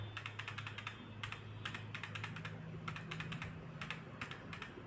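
Steady run of computer keyboard typing with clustered key clicks across several bursts, close and fairly quiet, in an office setting entering details for two Dell computers; no talking.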